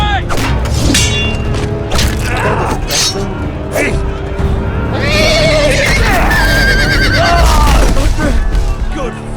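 Horses whinny and neigh in a Game of Thrones video game battle, layered over loud continuous booms, crashes and thuds with dense music and effects throughout.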